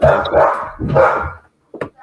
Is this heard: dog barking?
yes